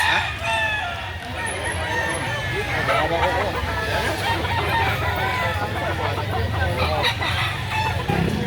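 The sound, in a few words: stag rooster crowing at chicken market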